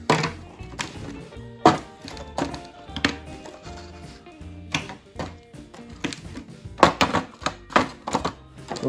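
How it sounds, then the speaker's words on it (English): Celery pieces tossed into an aluminum pan of beef short ribs, heard as a series of sharp, close clattering thunks at irregular intervals, with no talk over them. "And then after that, you want to throw in some celery."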